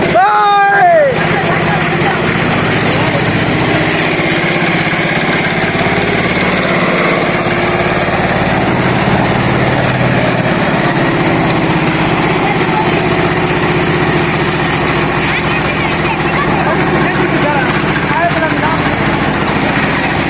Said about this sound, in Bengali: মেশিন স্টার্ট হয়ে গেছে এখন।